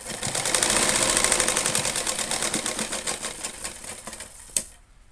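A sewing machine runs a quick double stitch across fabric, a close, fast rhythmic chatter that slows gradually and ends in a sharp clack before stopping.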